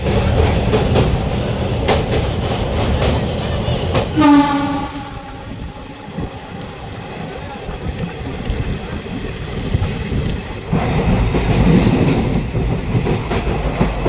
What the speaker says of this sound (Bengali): ট্রেনটি দমদম ছেড়ে এখন পাস করবে হুগলি নদীর ওপর অবস্থিত বিবেকানন্দ ব্রিজ